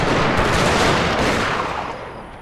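A battery of eighty Gatling guns in Shogun 2 firing together: a dense, loud, continuous roar of rapid gunfire close by, slowly easing off toward the end.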